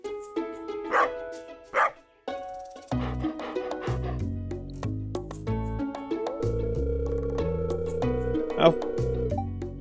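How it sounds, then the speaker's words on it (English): A dog barks in the Stardew Valley farming game, two short sharp yaps followed by game music and sound effects, with a voice talking over the scene. "You see, this dog here..."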